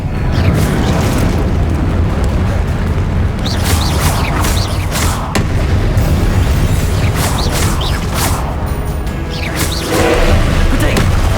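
Confringo blasting spell explosions in the Hogwarts Legacy video game, repeated booming blasts over a dense, continuous layer of battle noise, with brief sharp bursts scattered through it.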